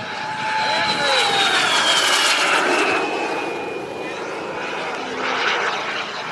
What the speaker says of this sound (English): And we have Quan now flying his jet.